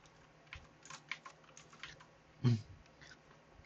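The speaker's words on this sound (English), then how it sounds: "I will type it here." Keys tapped on a computer keyboard while entering an OTP code, a quiet scatter of light, irregular clicks with one louder thump near the end.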